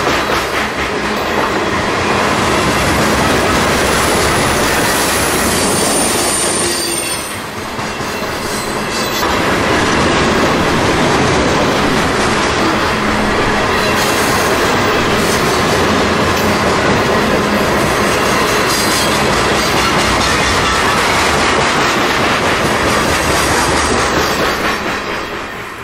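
A long freight train with potash hoppers at the head end rolls past close by, a loud continuous roar of wheels and rattling cars with clickety-clack and brief squeals, dipping for a moment before surging on.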